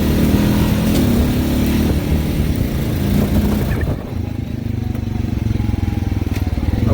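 A 2020 Honda Rancher 420 ATV engine drones loud and close while riding, a steady rumble that drops and turns choppier partway through.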